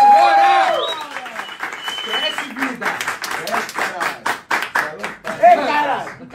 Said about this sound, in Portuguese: Batam muitas palmas para Gordão da XJ e Mamal, nosso convidado de hoje.